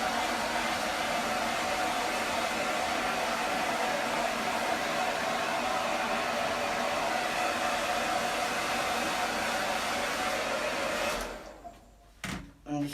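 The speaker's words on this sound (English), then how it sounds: "I'm always hitting the hairdryer off with my hand so I can test how hot it is." A hair dryer blows steadily and loudly while drying a dog after a bath, a continuous close whoosh that runs for about eleven seconds before cutting off abruptly, followed by a couple of brief clunks.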